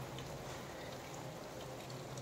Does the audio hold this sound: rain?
yes